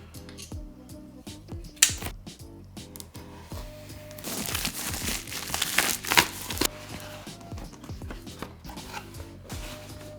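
A ZHIYUN Smooth 5S AI gimbal pro version is unboxed, with close, sharp crinkling and rustling of packaging, irregular snaps and crackles building into a busier stretch of handling before settling back.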